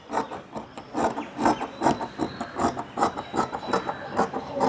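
Scissors cutting through cloth for a pillow cover, a quiet, steady series of rhythmic rasping snips and rubs with no talking.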